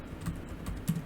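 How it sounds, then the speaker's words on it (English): Computer keyboard typing in a Google Sites editor, a steady run of soft, close key clicks with a few slightly louder taps, heard alone. "you can start typing in here"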